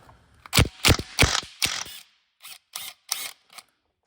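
A hand ratchet works a bolt off the CV axle of a 2005 Lexus ES330, with four loud close bursts of rapid clicking followed by three quicker, fainter bursts, with no talking.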